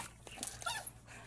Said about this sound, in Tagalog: Ayan, ang ating aso guys.